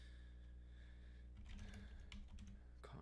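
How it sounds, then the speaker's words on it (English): Typing on a computer keyboard: a second of quiet hum, then a soft burst of close key clicks in quick uneven rhythm, faint and with no talking. "please let me finish typing."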